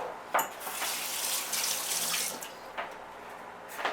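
A kitchen tap runs in a steady splashing stream while a spoon is wetted under it, with a few brief louder splashes and clinks rising above the flow.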